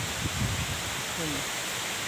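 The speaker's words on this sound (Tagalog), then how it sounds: "Sobrang lakas ng hangin na to mga ka-farming" Strong wind roars on a goat farm as a dense, steady rush of broadband noise, with a brief muffled voice faintly underneath.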